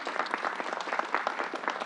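Audience applause for a state health official at a vaccination site, a dense, steady patter of many hands clapping that stays even and fairly close for its short length.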